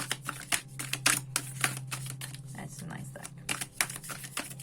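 Tarot cards shuffled by hand in a run of quick crisp riffling slaps and flutters, close and fairly loud, with a steady low hum underneath.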